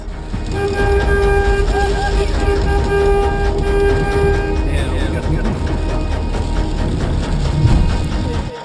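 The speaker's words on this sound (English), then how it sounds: "The tour leader immediately honks his horn to get the group back in the van" A tour van's horn blares in one long sustained honk over engine rumble and wind as a tornado approaches, then people talk and shout urgently nearby.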